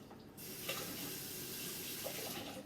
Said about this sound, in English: Now give your hands a good wash